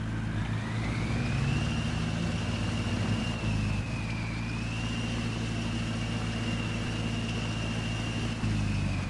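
A truck engine in the SnowRunner video game runs at high RPM, a loud steady drone with a rising then held whine above it, continuous for the whole stretch with no talk.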